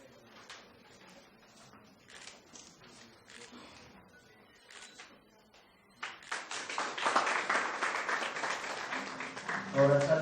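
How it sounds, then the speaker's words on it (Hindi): At a party launch event, scattered claps and speech give way to a swelling round of audience applause that grows louder and denser toward the end. "और अच्छा ताली बजा सकते हैं।"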